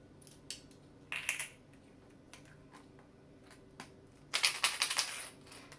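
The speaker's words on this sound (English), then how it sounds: "I found some metal ones, so it makes a little clangy sound" Three small metal buttons clatter and rattle inside a homemade Montessori sound cylinder in short bursts, with a longer burst of jostling clicks near the end, close by and fairly quiet.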